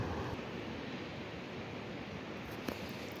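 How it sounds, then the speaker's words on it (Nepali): A stream swollen into a rushing flood after a hailstorm in a village in Nuwakot, Nepal, gives a steady, dense, continuous roar of water throughout, with no voices. "ठुलो भेल आएको छ"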